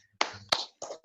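Three quick hand claps in a short rhythmic pattern for the Tepuk PPK clapping chant, close and crisp, with a faint tap at the end.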